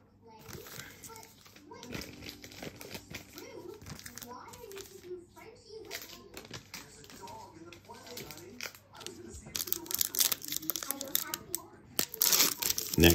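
Basketball trading card pack, Panini NBA Hoops Premium Stock, torn open with crinkly foil ripping and crumpling in sharp bursts that grow louder toward the end, with someone talking nearby throughout.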